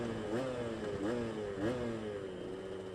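Aprilia RS125 two-stroke motorcycle ridden down a road to warm up, its engine note rising and falling through several rev swells over a steady buzzing drone, loud and close.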